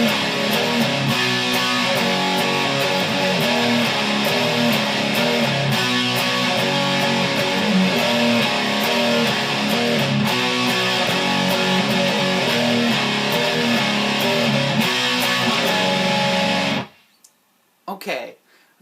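An electric guitar, lightly distorted, plays the chorus of a song in a steady, strummed, full-sounding passage that continues for about seventeen seconds and then stops abruptly, leaving brief near-silence.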